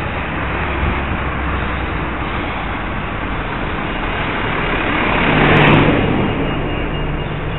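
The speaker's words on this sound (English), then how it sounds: "Keep your distance when you're overtaking, please." A car passes close to a cyclist outside York station. Steady road and engine rumble builds into a broad whoosh as the vehicle draws alongside, then eases off.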